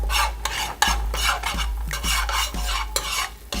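A late-night snack cooks in a pan, with butter melting under a fast, rhythmic scraping stir and a bright, close sizzle over a low steady hum.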